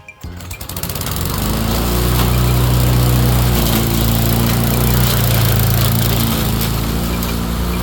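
A lawn mower starts up and then runs loud and close, its engine roaring steadily without pause.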